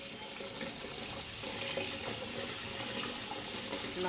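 Tap water runs continuously into a sink while coriander is rinsed, a steady splashing rush with light rinsing movement and no talking.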